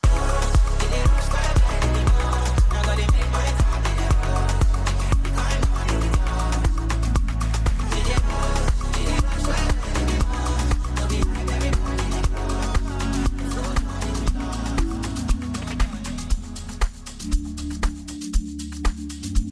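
Two music tracks blended together in Mixed In Key DJ software, a steady beat-driven mix with one track gradually giving way to another, loud and continuous with no talking.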